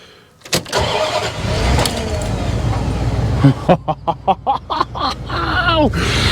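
A 1988 camper van's engine cranks and catches after a battery jump start, then keeps running at a steady idle under a series of sharp rhythmic bursts and excited voices.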